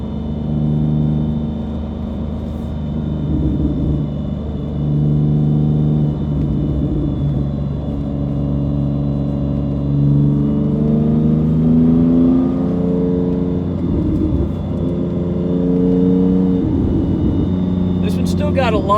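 A 2005 Porsche Boxster fitted with a 4.3L R43 engine accelerates on a test drive, a steady loud engine drone from inside the cabin with rising revs across the run.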